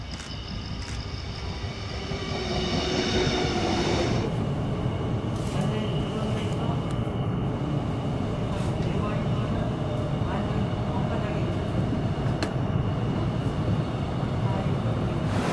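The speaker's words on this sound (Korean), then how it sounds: "그리고 저 멀리서 제가 탈 열차가 들어옵니다." A Suin-Bundang Line subway train rumbles into a station platform in Ansan, South Korea, a broad, steady roar of wheels and motors with faint high squeals, building briefly before settling.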